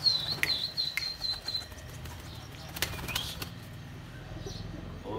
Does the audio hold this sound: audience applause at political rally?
no